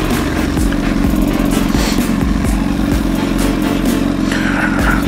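A motorcycle engine runs steadily and loudly up close behind a rider cruising along a street, its rough rumbling idle and throttle pulses continuous throughout with no talking.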